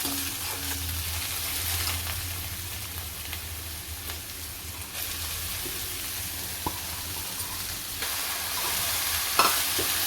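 Dill greens fry in oil over already-browned onion for a shepu moong dal bhaji, a continuous near hiss and crackle with occasional soft scrapes as the pan is stirred.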